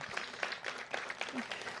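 A crowd at an outdoor groundbreaking for new housing at the Parks at Walter Reed applauds the Redevelopment Authority Advisory Committee, a brief, faint spatter of clapping heard from a distance.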